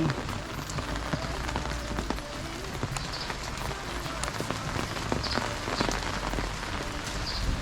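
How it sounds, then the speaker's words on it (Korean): Heavy rain pours steadily at a campsite beside a water-leisure spot, a dense, constant patter of drops drumming on surfaces close by for the whole stretch. "그 비가 진짜 많이 오네."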